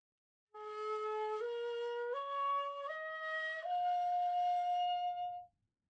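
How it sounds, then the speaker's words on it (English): A hitoyogiri shakuhachi bamboo flute plays the Ritsu scale as five sustained notes stepping upward, each held about a second, clear and solo with soft breathy edges. "The Ritsu scale sounds like this on a hitoyogiri."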